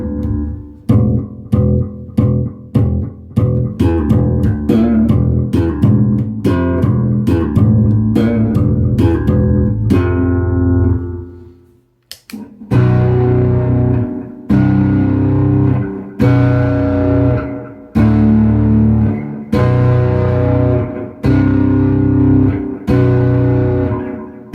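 Punchy slapped bass notes through a delay effect play in a choppy rhythmic pattern with echoing repeats trailing each note, pausing briefly before resuming loudly.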